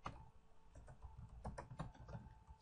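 Quiet, irregular keystrokes on a computer keyboard as a short search is typed, soft clicking taps in uneven bursts.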